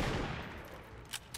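A gunshot in XCOM 2 rings out loud at the start and decays into a fading rumble, followed by two short sharp ticks near the end; no talking.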